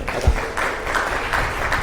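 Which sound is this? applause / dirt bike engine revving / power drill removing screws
applause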